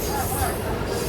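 The Dooars Queen passenger train runs along the rails with a loud, continuous rumbling roar and a faint metallic ring over it, heard close from inside a coach.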